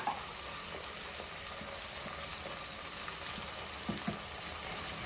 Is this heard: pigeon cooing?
no